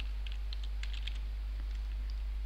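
Computer keyboard being typed on, a short run of light, quick key clicks over a low steady hum, close and fairly soft.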